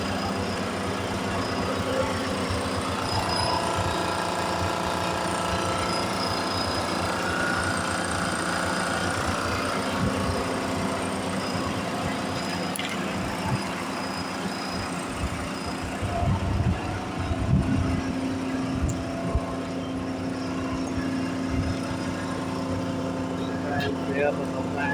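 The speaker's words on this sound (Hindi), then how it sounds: "ये मोटर चल रहा है।" A chiller's reciprocating compressor motor runs with a steady mechanical drone throughout, and someone speaks over it.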